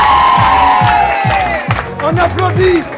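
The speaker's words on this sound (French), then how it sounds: "On applaudit les parents de mes filleuls." Whoops and cheers rise from a studio crowd at an anniversary television show, with some clapping beneath loud shouting voices, close and energetic.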